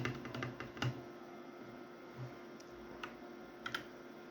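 Quiet, quick keystrokes on a Husky Gaming Blizzard 60% mechanical keyboard, a flurry of light clicks early on and then scattered isolated taps over a steady electrical hum.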